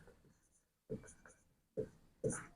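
Chalk or marker scratching across a classroom board in a short math lesson, coming in a few brief bursts separated by pauses, close and fairly quiet with no talk over it.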